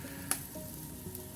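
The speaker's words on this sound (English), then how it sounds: "You can hear them start to pop and sizzle and hiss a little bit." Beer brats on a grill sizzle and hiss steadily at low volume, with a couple of faint pops breaking through.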